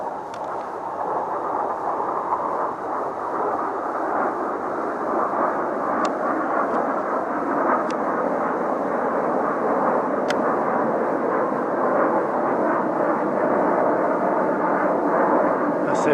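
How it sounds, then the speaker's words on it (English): A jet aircraft roars overhead in a steady, loud broadband rush that persists without a break, with a few faint clicks and ticks over it. "Fake jets just flew over."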